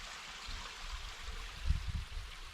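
A small, low-flowing stream in Painters Run, Loyalsock State Forest, trickles and babbles quietly and continuously, with a few slightly louder splashes toward the end and no voices.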